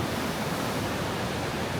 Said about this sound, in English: We have the roaring river beside us